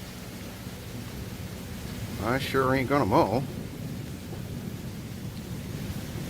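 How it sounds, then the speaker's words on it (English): Steady rain hisses across the whole stretch after a big storm has passed, with a faint low rumble of thunder; someone speaks briefly over it in the middle. "because it's raining, and we just had a big swamper come through."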